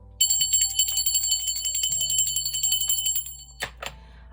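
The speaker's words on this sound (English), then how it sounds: "I'm going to ring the bell for my spirit guides, guardian angels, and ancestors." A ritual bell is rung for spirit guides, giving a bright sustained ring that shimmers and slowly decays across a few seconds, followed by two short sharper strikes near the end, with a low hum underneath and no talking.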